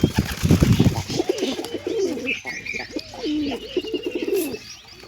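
Wild pigeon chicks coo in repeated low, throaty rolls, close by, with some rustling and a few higher chirps around them.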